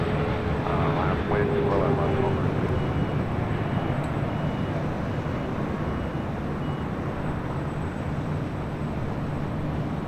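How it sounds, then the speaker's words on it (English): A Singapore Airlines airliner arriving at LAX from Tokyo Narita gives off a loud, steady broadband engine roar throughout, with a faint whine early on and some distant speech mixed in. "And that was Singapore Airlines Flight 12 coming in from Tokyo Narita"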